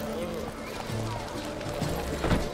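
The horse Roach gallops in a video game, a steady clip-clop of hooves running under continuous talk and in-game music, fairly close and even-paced.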